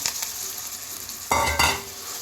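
Coconut gongura chutney is stirred into a hot, spluttering tempering of seasoning in oil, bringing loud close sizzling and frying, then a sharp burst of crackle and scraping as the mixture hits the pan.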